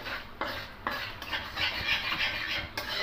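A spoon stirs bay leaves and sugar in a little oil in a pan, making a steady scraping, rubbing sound with soft sizzling underneath.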